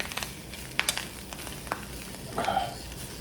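Boiled cabbage goulash from a Kazakh army ration being mixed in its tray, giving a few scattered scrapes and clicks over low background noise, with a brief louder wet rustle near the end and no talking.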